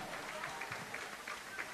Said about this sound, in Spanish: Un aplauso más fuerte para Cristian,